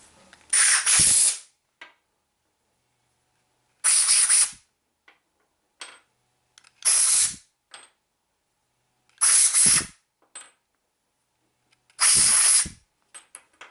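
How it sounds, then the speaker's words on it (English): Five short, loud bursts of compressed air hiss through 30-30 Winchester rifle cartridge cases during reloading, each lasting about a second and separated by silent gaps and faint handling clicks. "this would be a good time to blow these cases out too"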